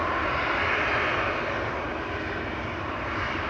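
A KLM Boeing 787 Dreamliner passes at Amsterdam Schiphol Airport, its broadband engine roar steady and loud throughout with no voices.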